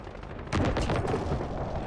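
Airstrike explosions in Call of Duty rumble in as a dense, loud, sustained barrage of blasts and gunfire-like crackle, starting abruptly and continuing without pause, with no talk over them.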